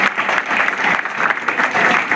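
Loud, enthusiastic applause from a community gathering of the Dhanka samaj honoring a class 9 student, brisk dense clapping that fills the room without pause.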